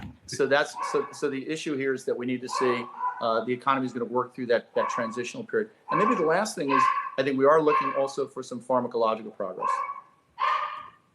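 A little dog barks and yips in the background of a home, the sound surfacing intermittently beneath someone speaking steadily.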